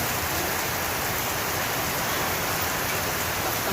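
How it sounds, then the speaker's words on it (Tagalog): Heavy rain pours down in a steady, dense roar, loud and unbroken across the whole stretch with no voices. "Lakas ng ulan."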